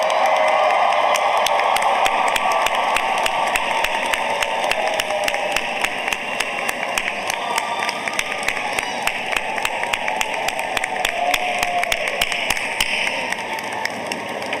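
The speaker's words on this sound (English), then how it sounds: "give them a round of applause" A large audience at a college commencement ceremony claps in sustained applause that fills the hall, a dense even roar of many hands with sharper individual claps standing out, loud and continuous throughout.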